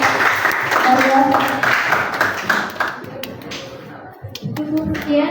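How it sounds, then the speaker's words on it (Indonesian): Students in a classroom clapping for a presenting group, a busy patter of hands at close range that thins out toward the end, with children's voices talking over it. "tepuk tangan untuk kelompok kalian"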